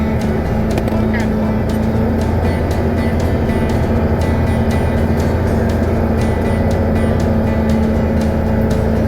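A farm vehicle loaded with harvested corn climbs a hill with a loud, steady engine drone and rumble that holds throughout without pause.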